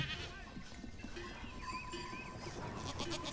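Goats that survived a wildfire bleat several times over a busy outdoor background. The wavering cries overlap at moderate distance.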